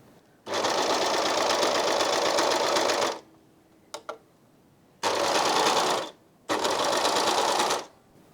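A Janome 8004D serger/overlocker sews a gathered seam in three long, steady whirring bursts separated by short pauses, with a brief click of handling between the first and second runs; close and loud, no talk.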